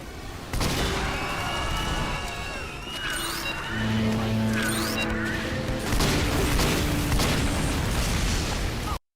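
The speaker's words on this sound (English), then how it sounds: "So this is the Ambassador, a big-ass revolver that can headshot enemies." Shots from the Ambassador, a large revolver in Team Fortress 2, crack out as loud, sharp reports over busy combat noise, with tonal game sounds and constant background action lasting several seconds.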